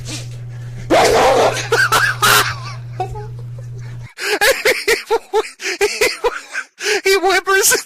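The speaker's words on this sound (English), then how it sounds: "He whimpers at the end. He whimpers. It's not just turkey sounds." A hungry dog gobbles raw hot dogs nearby, making loud wet gulping and snorting sounds broken into short bursts, with whiny vocal noises near the end and a steady low hum running under the first half.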